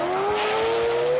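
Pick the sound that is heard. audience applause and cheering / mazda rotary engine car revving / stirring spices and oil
mazda rotary engine car revving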